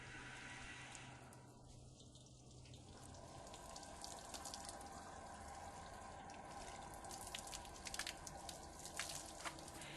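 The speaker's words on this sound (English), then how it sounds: "The flooding method is done by flooding the paint with water" Water poured in a steady flood over a car's painted panels during a rinse, a continuous splashing wash with scattered drips and trickles, fairly quiet and close, with no voices.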